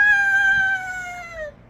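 A cat lets out a single long, drawn-out meow, close and clear, holding a steady pitch before sliding down and fading away.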